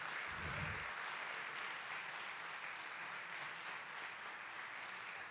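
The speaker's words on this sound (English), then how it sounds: "give them another round of applause" Applause from a spring band concert audience, steady and fairly distant, a soft even wash of clapping that holds for several seconds.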